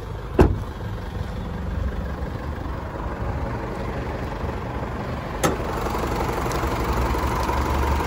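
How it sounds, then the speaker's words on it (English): The engine of a 2016 Isuzu MU-X LS-M 4x4 idles steadily with the bonnet open, a close, continuous low rumble punctuated by a couple of brief clicks. "we'll have a look underneath the bonnet while the motor's still running"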